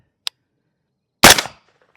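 A single sharp 300 Blackout gunshot fired from a short 10.5-inch, 1-in-8 twist barrel with 198-grain Black Hills Dual Performance ammunition, loud and close, with a brief tail after a faint click beforehand.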